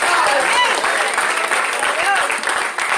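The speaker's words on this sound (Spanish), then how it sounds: "fuerte ese aplauso" A loud, dense wave of applause from a church congregation during a Spanish-language sermon, steady throughout with voices and shouts woven in.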